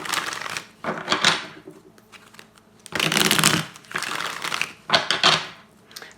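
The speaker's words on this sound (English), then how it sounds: "Now we're going to go ahead and pull out your 6 cards." Tarot cards are shuffled and pulled from a deck close up, with several bursts of crisp riffling and sliding card sounds separated by short quiet gaps.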